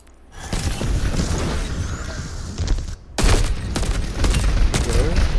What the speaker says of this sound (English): See, you throw your bomb, you shoot at him, you get a free kill right then and there.